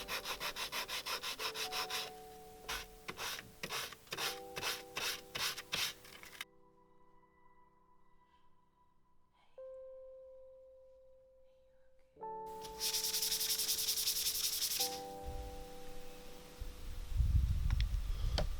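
Hand sanding of a car body being prepped for spray paint, worked into corners, creases and around the windows where a palm sander won't fit; bursts of steady scraping strokes with pauses and faint tonal background hum, close and moderately loud.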